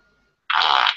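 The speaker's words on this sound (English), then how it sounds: "Yeah, my phone making fart noises." A phone plays a single loud, buzzy fart sound effect lasting about half a second, abrupt and close after near silence.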